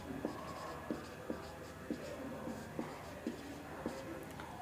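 A pen writes out a trigonometry solution on paper, soft scratching strokes with regular small taps at the start of each stroke, quiet and close.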